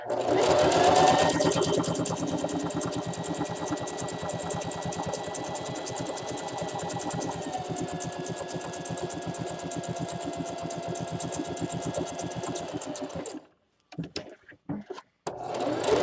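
A sewing machine hums steadily and loudly up close while stitching a fabric Easter basket, running for about thirteen seconds before stopping, followed by a few brief handling noises.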